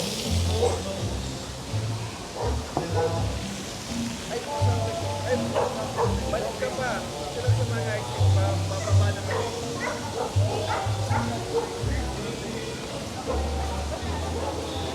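Dogs bark on a busy city street at High Street in the BGC district of Manila, repeated deep woofs and yips mixed with crowd chatter and steady urban background noise.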